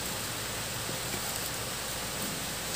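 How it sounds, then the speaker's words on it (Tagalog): Rain falls in a steady, even hiss with no breaks, a soft, diffuse wash of drops spread evenly throughout. "umuulan na ulit"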